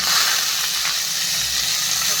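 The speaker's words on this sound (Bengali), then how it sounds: "এখন দিয়ে দেবো এই যে পেঁয়াজ, টমেটো আর কাঁচা লঙ্কা এক এক করে" Onion, tomato and green chilli hit hot oil for paneer bhurji, giving a steady, loud, close sizzling hiss that runs unbroken throughout.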